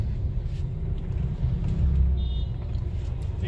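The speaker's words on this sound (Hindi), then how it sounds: "मतलब बहुत ज्यादा ट्रैफिक है यहाँ पर गाइस" Low rumbling car traffic on a busy Bangalore road, a steady engine drone heard close by with no talking.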